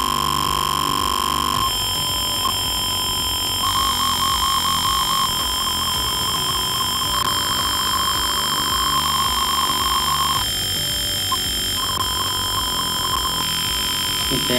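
An electronic alarm from a programmed sensor circuit buzzes in steady repeating pulses, a loud high beeping tone that keeps sounding throughout with no voices.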